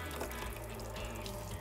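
Water runs steadily from the sink tap of a Ford Transit Custom Nugget Plus Westfalia camper van, a soft, continuous close-up splash with no voices.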